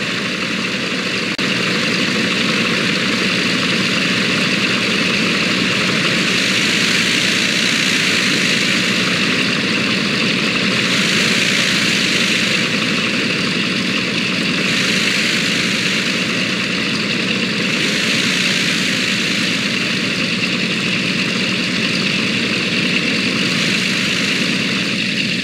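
A Douglas DC-3 propeller airliner in Microsoft Flight Simulator drones with a constant loud, heavy engine and propeller hum, steady and unbroken as it idles and taxis, with no voices.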